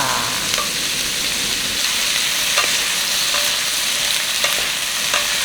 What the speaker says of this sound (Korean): 센 불에 계속 볶고 있는데